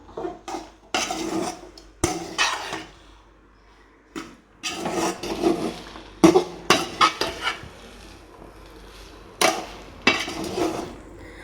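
Egg fried rice with masala is stirred in a pan, giving irregular bursts of metal utensil scraping and clanking against the pan, loud and close, with short pauses between strokes.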